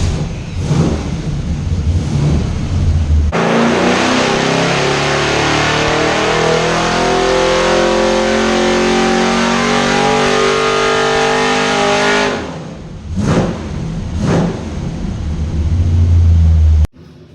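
An engine fitted with an Edelbrock Performer intake and no carburetor spacer is loud on a dyno, rising steadily through a long full-throttle pull before cutting off, followed by a few short revving blips.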